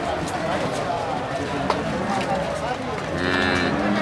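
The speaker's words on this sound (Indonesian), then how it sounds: "Ada sapi limusin, simetal," Limousin and Simmental cattle at a busy livestock market, with hoof clops, shuffling and a lowing cow amid a steady crowd murmur, a brief sharp knock near the middle and louder activity toward the end.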